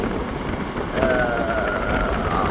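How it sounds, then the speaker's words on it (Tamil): Wind blows hard across the microphone during a coastal storm, a steady broadband rush with faint gusting swells and no voices. "காற்று அடிக்குது"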